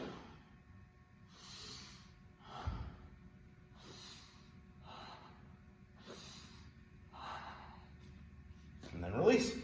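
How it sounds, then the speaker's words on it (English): Slow breaths drawn in through the nose while walking back on a hike, a series of soft, close airy inhales and exhales at a relaxed, regular pace, ending in a louder puff. "so I'm going to breathe in through the nose."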